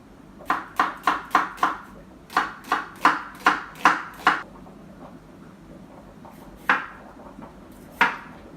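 A knife chops leek and onion on a cutting board in a quick run of about six crisp strokes, a pause, another run of five, then two slower isolated cuts, close and clear with no talking.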